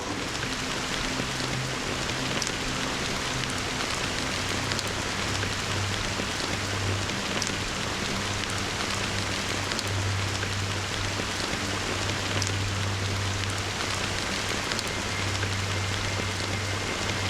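Steady rain falls throughout a scene in the video game Honkai Star Rail, an even hiss of drops on surfaces with a faint low hum beneath and no voices.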